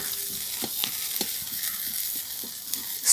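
Mustard seeds go into a prawn and coconut filling frying in a pan, with a steady sizzle and repeated short scrapes as the mixture is stirred.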